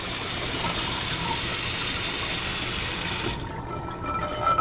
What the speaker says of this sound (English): now I just rinsed it